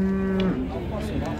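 A calf at a livestock market in Füzuli lets out a single loud, drawn-out moo close by, over crowd noise.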